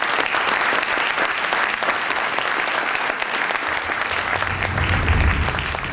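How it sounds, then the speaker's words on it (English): A crowd at a reunion evening applauds loudly and continuously, many hands clapping in a dense, sustained roar that stays strong throughout and swells slightly near the end. "I want you to give applause again to Carol."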